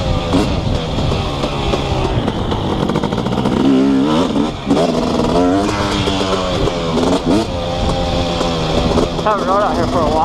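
A 2018 KTM 250SX two-stroke dirt bike with an FMF Powercore 2 exhaust rides a muddy, soft track. The engine sounds loud and close, with repeated revs rising and falling in a raw, buzzing tone.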